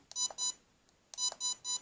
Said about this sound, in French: que vous entendez les 3 bips, votre drone va aller plus vite